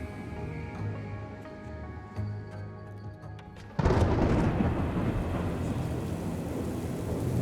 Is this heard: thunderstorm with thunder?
yes